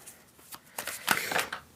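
A deck of playing cards is shuffled in a few quick, soft riffling bursts, quiet and close, with no talking.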